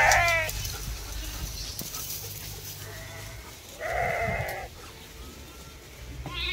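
A flock of sheep bleats outdoors near a German shepherd meeting them for the first time, with several wavering bleats, one early, a louder pair near the middle and another at the end, over steady background rumble.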